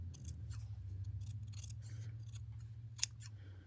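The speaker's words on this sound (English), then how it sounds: "hopefully their school scissors will let them cut the felt" School scissors snip through felt in a run of quiet, close crisp cuts, one sharper clip standing out near the end over a faint low hum.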